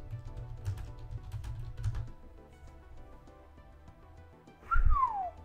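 Quick clicking keystrokes on a computer keyboard fill the first two seconds, then quieter scattered taps follow and a short rising-falling whistle-like tone ends the clip.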